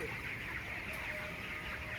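A rooster and chickens cluck faintly on a poultry farm, a soft and steady backdrop of fowl sounds at a low level.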